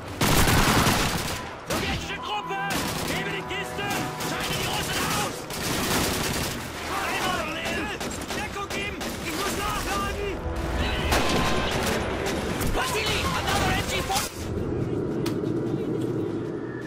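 Gunfire from a weapon in Call of Duty 2, played on Veteran difficulty: dense, continuous battle shooting with sharp cracks layered over constant combat noise and speech, easing off toward the end.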